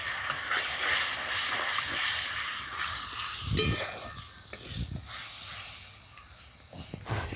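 Cow's milk poured into well-fried spice masala for a stuffed pointed gourd (potol) curry hisses and sizzles in the pan under intermittent stirring, moderately quiet and close.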